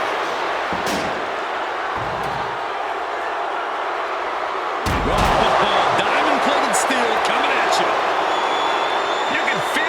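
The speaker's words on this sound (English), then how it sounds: "Driven down with wasteland, and a thunderous set on the follow" A wrestler is driven hard onto the mat during a no-holds-barred pro wrestling match, a heavy thud followed by a loud roaring arena crowd, with a commentator talking over it.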